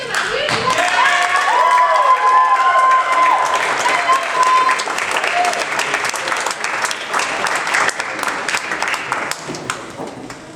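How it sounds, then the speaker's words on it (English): Applause and cheering from a crowd at an evening improv comedy show as performers come on stage, loud and sustained with whoops over dense clapping, slowly fading toward the end. "give them a huge applause"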